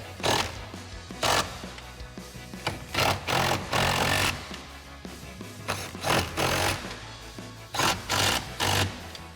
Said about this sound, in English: Now we'll bring back our 13mm socket and extension and tighten these down.